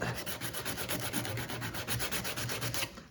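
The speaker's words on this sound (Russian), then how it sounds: "Шлифуем." Metal sanded by hand with fine-grit sandpaper, producing a steady, rhythmic rasping with quick back-and-forth strokes, close and alone without speech.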